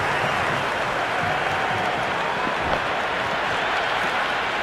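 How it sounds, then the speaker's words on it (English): A cricket stadium crowd in the Cricket 26 video game roars in a dense, steady wash of cheering and applause, loud and continuous without a break. "It's evident and ever so audible that the crowd is at near bursting point at today's play."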